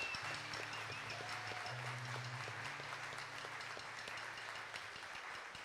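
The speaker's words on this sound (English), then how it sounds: "give them a round of applause" An audience at a fundraiser concert for asylum seeker support services claps steadily for several seconds, a dense continuous patter with some tonal sound running underneath.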